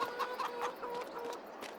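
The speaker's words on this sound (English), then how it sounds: "So over here is our chicken coop. We have a couple of chickens, not too many, but a decent amount." Chickens at a coop in Farming Simulator 22 cluck softly in short, scattered bursts, a few birds heard fairly faintly against a quiet background.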